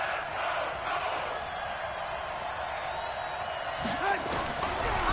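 A stadium crowd in the Madden football video game roars steadily before a big third down, a broad continuous din that lifts with a few louder bursts near the end.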